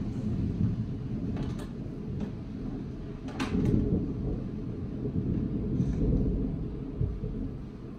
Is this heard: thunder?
yes